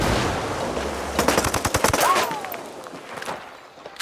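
Gunfire in the video game Ghost Recon Wildlands, a rapid burst of automatic shots over a low rumble, fading to a quieter tail with a faint whistling tone.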